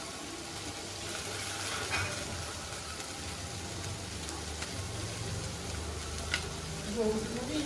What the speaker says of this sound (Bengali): দিয়ে আমি এটাকে ভালো করে ভেজে নেব।